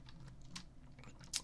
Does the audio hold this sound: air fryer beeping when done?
no